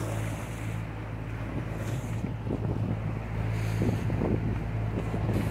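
A sailboat under motor pushing through pounding waves, with a steady low engine drone beneath rushing water and heavy wind buffeting the microphone, continuous and loud.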